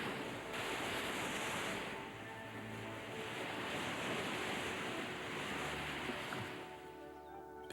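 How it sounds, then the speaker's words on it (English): Ocean surf surges and crashes against the rocks at Thunder Hole on the Maine shoreline, a continuous heavy roar with wind buffeting the microphone and no voices. "At Popular Thunder Hole, waves assail the rocks with surging strength."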